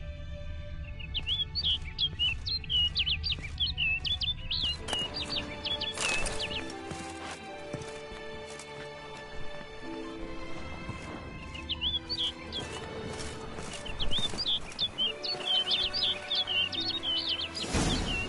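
Small birds chirp and twitter in quick, high bursts within The Witcher 3: Blood and Wine, the calls returning in clusters over a game backdrop of ambient tones and soft hoof-like clopping, with no speech.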